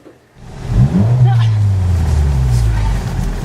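A car engine revs and pulls away on an icy, snowy road during a mountain snowstorm, rising to a loud steady drone with voices talking over it.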